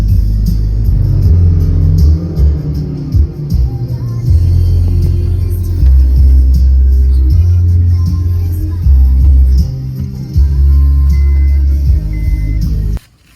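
A modified 2007 Honda Civic engine revving hard and close up, a loud, sustained rumbling roar that holds, dips and climbs again in several pulls before cutting off abruptly at the end.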